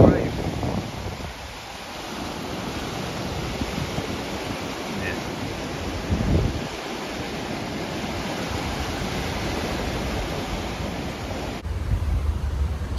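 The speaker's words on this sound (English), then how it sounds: "Not a lot of surf here today." Ocean surf at Snapper Rocks, heard as a steady, broad wash of waves with constant wind noise across the microphone and no clear break from a single wave.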